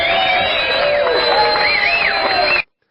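A played crowd cheering sound effect on a radio show, loud dense whoops and cheers from a large crowd for about two and a half seconds, then cutting off abruptly to silence.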